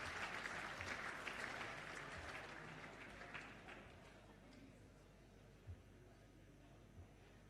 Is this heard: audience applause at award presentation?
yes